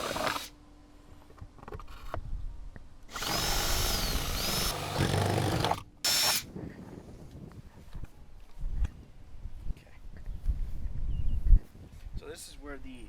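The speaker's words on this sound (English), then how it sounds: "We'll drill all 4 holes." Short, loud bursts of a power drill boring mounting holes for a carbon fiber splitter on a Hyundai Veloster N, with a person talking between the bursts.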